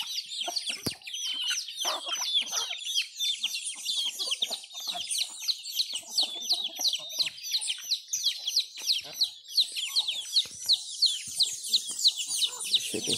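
Hens and small chicks being fed cornmeal, banana and colostrum, with constant high peeping and chirping and occasional clucks close by, a voice speaking now and then underneath.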